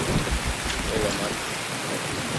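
Rain falls steadily during a squad match in Escape From Tarkov, a dense, close hiss of drops on surfaces, with a low rumble like distant thunder early on that fades toward the end.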